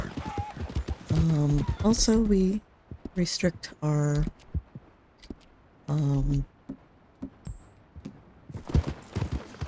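Clip-clop of a Tennessee Walker horse's hooves in Red Dead Redemption 2, soft irregular hoof steps under someone talking, with a short whinny-like snort and occasional keyboard-like clicks.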